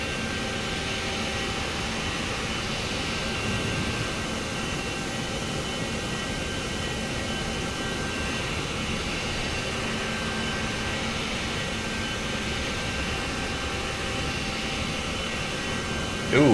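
An Airbus A321neo with Pratt & Whitney engines spools up during an engine start in a flight simulator, heard as a steady, loud, broadband roar and whine that holds constant throughout.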